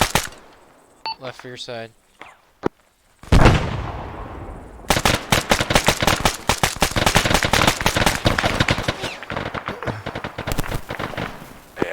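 Rapid bursts of rifle and machine-gun fire crack close and loud during a 15th MEU platoon training session in a military shooter game. Shots arrive in dense volleys, and voices call out between them.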